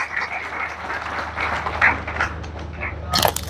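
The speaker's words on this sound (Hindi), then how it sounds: "एक बार हम सभी अपने लिए तालियां बजाएंगे।" Applause from a gathered audience at a large community assembly in Rohtak, Haryana, mid-distance and fairly steady, swelling briefly near the end with some cheering.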